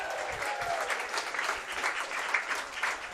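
Stadium crowd at an athletics meet applauding after a high jump clearance, steady rolling clapping heard from a distance, sustained across the whole stretch with slight swells.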